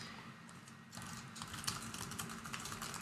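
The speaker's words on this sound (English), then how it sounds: "Getting pretty good at typing this URL." Fingers type steadily on a computer keyboard, a close run of quick clicking keystrokes over a constant background hiss, with no talking.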